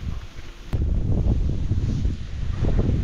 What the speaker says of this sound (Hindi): लेकिन भाई और भी तेज हवा चल रही आज तो